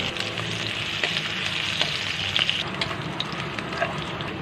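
Ginger and garlic sauté in a pan for chicken tinola, a constant close sizzle with scattered crackles and light stirring knocks, and no one talking.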